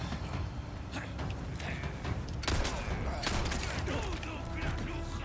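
Gunshots ring out in the Resident Evil 4 Remake, several sharp reports over a busy game soundscape, some close and loud, others scattered, with a few thuds mixed in.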